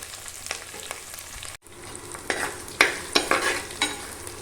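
Onions, dried red chillies and curry leaves sauté in hot oil for a village-style country chicken curry, a steady close sizzle broken by several sharp stirring scrapes, with a brief gap partway through.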